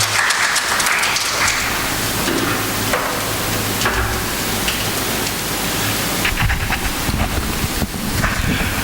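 Conference audience at a workplace-themed conclave breaks into sustained applause, a loud dense wash of clapping that swells and thins in places, with no voices over it.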